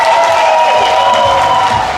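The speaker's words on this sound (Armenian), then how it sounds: "եկեք թող ծափեր տան Հարսիկի կողմը" Wedding guests on the bride's side applauding and cheering at a large Armenian wedding, a dense continuous crowd of clapping with music underneath.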